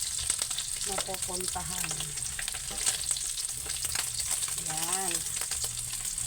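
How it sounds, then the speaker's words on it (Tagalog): Pork fat sautés in a pan with a steady, bright sizzle and crackle and occasional stirring scrapes, close up, while someone talks briefly over it. "yan po ay ginigisa muna natin siya para maraming lalabas yung oil niya"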